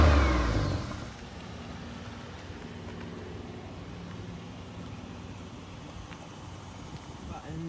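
Engine of a 2005 Pontiac Grand Prix GT revs up briefly at the start, then settles into a steady mid-pitched idle heard from inside the car, with no voices.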